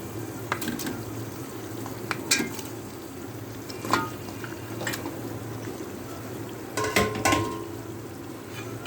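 Beef and onions frying in a pot for beef biryani, a steady sizzle punctuated by sharp scraping stirs and clatters of a spoon against the pot, close and fairly loud with no talk.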